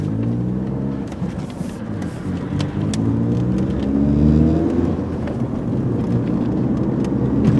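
A gray 2003 VW Passat sedan with a five-speed manual gearbox accelerates on a road, its engine rising steadily in pitch over a continuous loud drone with road rumble, heard close from inside the car with no talking.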